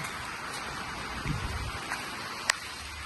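Rain falling outdoors in a wind, a steady soft hiss of drops with faint scattered patters and one brief sharp tap, moderately quiet and with no talking.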